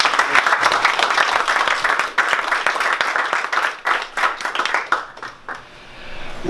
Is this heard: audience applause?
yes